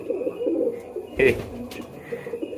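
A pet pigeon coos close by in a short, low, throaty burst, with faint background noise around it.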